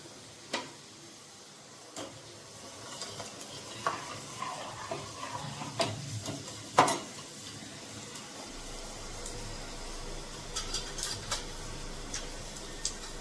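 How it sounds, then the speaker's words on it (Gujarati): Spices crackle in hot oil as a tempering is added to dal in a home kitchen, a quiet sizzle with scattered pops and clinks, fairly faint and steady throughout without talk. "એ વઘાર મૂકી દીધો."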